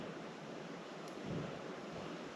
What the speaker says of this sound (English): This is a fair bit windy